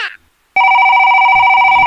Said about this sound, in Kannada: ಯಾರ ಫೋನ್ ಮಾಡ್ತಾ ಇದಾರೆ